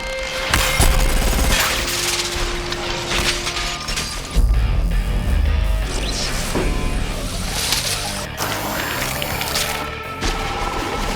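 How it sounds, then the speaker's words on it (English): A pane of film-set glass bursts and shatters outward, a loud crashing spray of breaking shards followed by tinkling debris and a second heavy impact, with sweeping whooshes and scattering fragments running through the whole stretch. "We wanted the glass to explode in sort of an ever-expanding circle"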